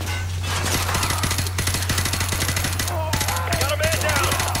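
Rapid automatic gunfire in Call of Duty: Modern Warfare 2 Campaign Remastered, a dense, steady rattle of shots running throughout, loud and close, with a few sharper bursts layered over a low constant hum.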